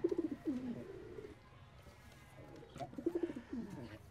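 Domestic pigeons in a large hobby flock coo softly in two short rolling bouts separated by a quiet pause, with no voices.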